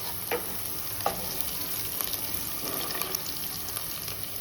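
Carrots go into a pan of sizzling onions. A constant soft hiss runs throughout, with a few sharper clinks and scrapes of stirring.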